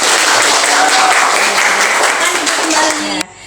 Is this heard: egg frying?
no